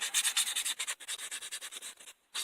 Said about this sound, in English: you can take any kind of sandpaper or whatever,